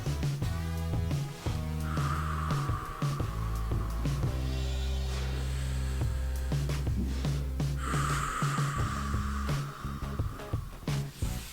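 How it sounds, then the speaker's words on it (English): Deep breaths during a floor stretching exercise come as soft, airy swells, one early and another later, heard faintly over continuous background music with no speech. "Deep breath in."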